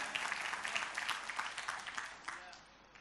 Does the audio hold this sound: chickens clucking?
no